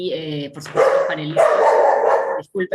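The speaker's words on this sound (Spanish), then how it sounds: "Ya, disculpen el perro" A dog barks repeatedly nearby during a virtual regional-election panel session, its sharp yips and barks overlapping and alternating with a man's apologetic speech.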